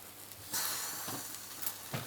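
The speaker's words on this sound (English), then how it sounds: "this occasional water boiling off you can hear is actually coming out of the pressure valve" Hissing, sputtering bursts of steam and boiling water escaping from the pressure valve of a Mamod Minor 2 toy steam engine, intermittent and fairly close, with quiet gaps between spurts.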